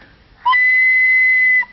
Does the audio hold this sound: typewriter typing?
no